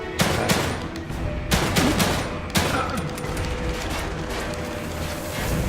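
Rapid assault rifle fire and grenade blasts from The Evil Within 2 ring out in dense, overlapping bursts, loud and continuous, with sharp louder cracks standing out near the start.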